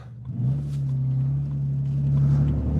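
A BMW E90 325i on coilovers with loud aftermarket exhaust pipes, a close, heavy droning rumble that holds steady and swells slightly as the engine pulls, with no talking.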